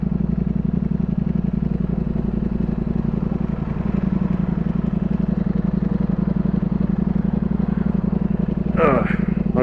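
A 2022 Ducati Streetfighter V4S motorcycle cruises through New York City with a steady, loud low engine drone that holds throughout, and a brief higher whine or chirp rises near the end.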